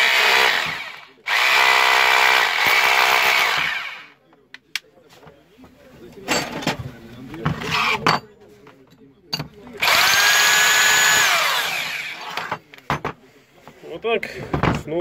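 A Bosch GBH 2-24 rotary hammer whines loudly in two long bursts while being tested after repair, with clattering, handling noises and short spurts of drilling in between.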